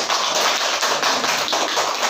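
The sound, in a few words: audience clapping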